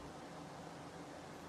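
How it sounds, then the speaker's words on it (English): Steady broadband hum of a home air conditioner running indoors during a hot spell, a constant even whoosh with no talk over it. "If you hear my air conditioning is in the background"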